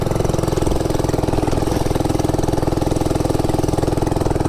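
A small mini bike engine labours loudly up an off-road hill, its close, rapid chugging exhaust pulsing evenly throughout.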